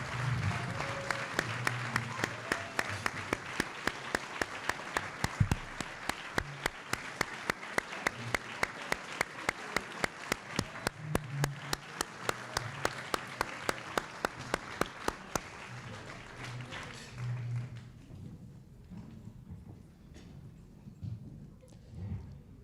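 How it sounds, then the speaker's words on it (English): A church congregation at a 200th anniversary celebration applauds a pastor's wife for her service, a long, steady wash of clapping with sharp individual claps, lasting about fifteen seconds before fading into quieter room murmur. "Can we applaud you for your service to the church?"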